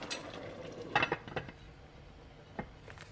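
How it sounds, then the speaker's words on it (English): A metal lid set onto a pot of dumplings cooking on the stove, with a couple of clanks and rattles near the start and middle, then fainter clinks, no talking. "You are going to put the lid on."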